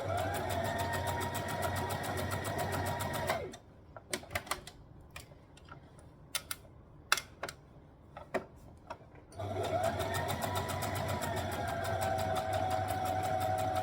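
Domestic sewing machine stitching a dress seam on a long stitch length, a fast, even mechanical whirr that runs, stops for a stretch of quiet clicks and handling, then starts again.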